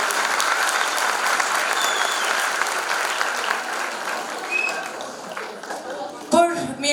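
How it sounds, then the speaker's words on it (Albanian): A concert crowd applauds for the children, dense continuous clapping that fades toward the end while voices start talking over the last of it. "Duartrokitje për fëmijët."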